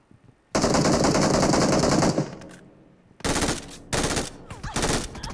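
Automatic gunfire from the battle-royale game BGMI (PUBG Mobile) rattles in long, loud bursts: one extended rapid volley, a brief pause, then several more choppy bursts close together, with no talking over them.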